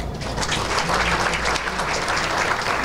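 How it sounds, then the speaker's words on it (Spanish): Guests applaud at a collective wedding ceremony just after the exchange of rings, a full, continuous roar of many clapping hands that stays even and loud from start to finish. "Un aplauso, por favor."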